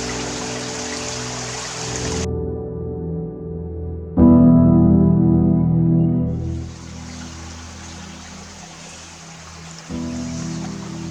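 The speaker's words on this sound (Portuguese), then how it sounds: "corre aqui e ali um fio de água numa cana irregular elevada" A thin trickle of water runs along a raised, irregular channel in Piodão village, Portugal, a steady close wash that swells into a louder, lower rush midway before settling back, with no voices.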